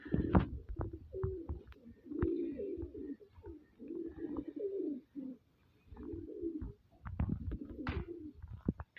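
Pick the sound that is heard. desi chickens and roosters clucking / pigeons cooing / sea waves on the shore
pigeons cooing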